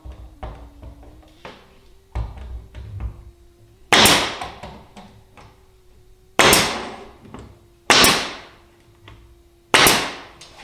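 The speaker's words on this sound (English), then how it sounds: "Well, I'm just nailing the back on." Nails hammered into the back panel of a large movable storage unit, with a few light taps followed by four loud, sharp ringing blows spaced a second or two apart, close and alone.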